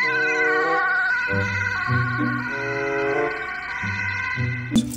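A toy ambulance siren wails steadily in close, loud, stepped electronic tones over several cycles, ending with a sharp click.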